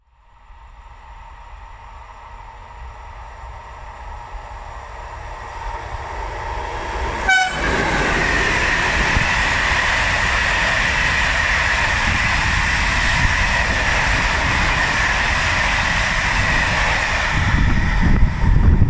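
A train approaches with a short horn blast, then rushes through a station at Anzola Emilia, Italy, without stopping, in a loud, sustained roar of wheels and rattling carriages.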